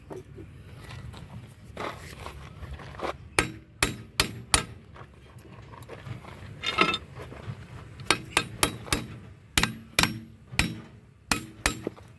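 Hammer blows on a metal part of a Kubota KX033 mini excavator during a seal replacement ring out in irregular bursts, several quick strikes clustered together with pauses between, fairly close and sharp over a low background hum.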